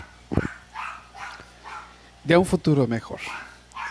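A dog barks in short, loud bursts near a person talking, the barks mixed in with the speech in the middle of a talk on community in Christian life.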